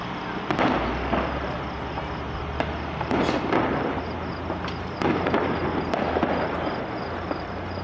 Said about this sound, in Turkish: Havai fişekler ve molotoflar ardı ardına patladı.